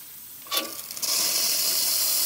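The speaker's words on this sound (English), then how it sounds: "Nice strong steam." A Rocket espresso machine's steam wand, freshly tuned up, releases a strong, steady hiss that kicks in after a brief burst and then holds loud and continuous to the end, with no talking.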